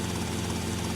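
A helicopter in a video game during helicopter missions: a loud, continuous rotor and engine drone, dense and unbroken, with no talk.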